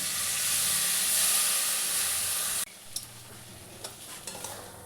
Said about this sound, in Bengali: সামান্য একটুখানি জল দিয়ে দিলাম।